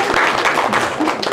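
Audience applause at a French-language vocational training event, a steady broadband wash of many hands clapping throughout, moderately loud and continuous with some background murmur.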